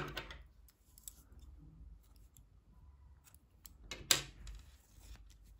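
Scissors cut knitting yarn, giving a few faint snips and clicks over quiet room noise, with one sharper snip near the end.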